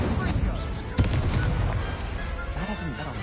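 Incendio fire spell cast in Hogwarts Legacy, a burst of fiery whooshing with a sharp crackling impact near the start, followed by rumbling flame noise and a voice speaking over it.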